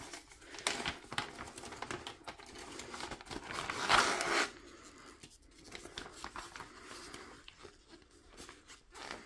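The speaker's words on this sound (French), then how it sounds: "On va déballer ça." A cross stitch kit parcel being unpacked indoors, with soft, irregular rustling, crinkling and tearing of packaging, a louder burst midway, all fairly quiet with no talking.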